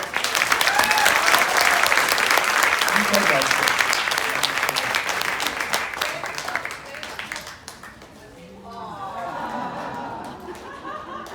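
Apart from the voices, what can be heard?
audience applause at an award ceremony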